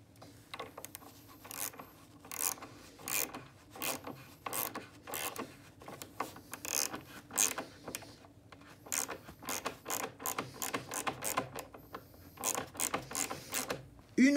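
Threaded insert being screwed into wood with a bolt, fitted with a nut and washers, while building a giant pop-up box structure, giving repeated close ratcheting, grinding clicks in an irregular rhythm throughout.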